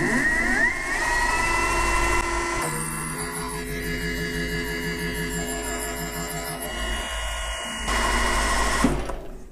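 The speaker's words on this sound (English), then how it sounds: "So I'm just going to try machining down 25 thou on that one" Brass knife hinges being machined down, a steady motorised whir with a sustained pitch that shifts in stages, louder at the start and again near the end, with no talking.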